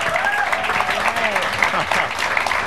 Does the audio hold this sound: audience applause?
yes